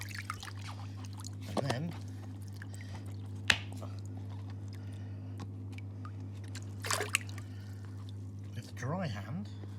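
A hand moves under hot tub water to unclip a Lay-Z-Spa Chem Connect chlorine dispenser, giving a few soft, brief splashes and sloshes over a steady low pump hum, with a short voice in the clip.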